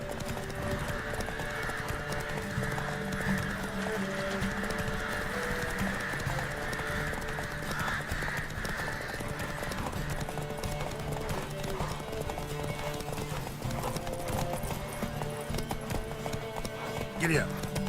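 Galloping horse hooves in The Witcher 3, a steady rapid clip-clop running continuously under game music and a man's chatter, fairly loud and close throughout.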